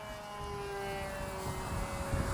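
Durafly Rare Bear RC airplane flying at about a third throttle, a steady engine drone with a sustained tonal whine holding at moderate loudness throughout.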